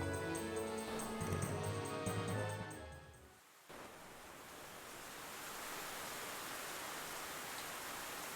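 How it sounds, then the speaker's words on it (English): Heavy rain begins in the game Shining Tears, where music cuts off after a brief gap into a dense, steady hiss of downpour that continues evenly to the end. "Whoa, look at all this rain."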